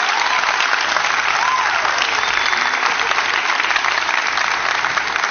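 Steady, dense studio audience applause fills the whole stretch, a constant wash of many hands clapping at even loudness, on a Turkish TV show.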